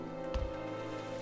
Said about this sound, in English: So because it started raining as I predicted